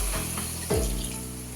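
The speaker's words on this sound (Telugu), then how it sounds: "మనము ఇందులోకి వాటర్ వేసుకుంటున్నాను." Water poured into a pot of goat head curry, a continuous splashing stream with a low gurgle that shifts in pitch partway through as the pot fills, close and steady.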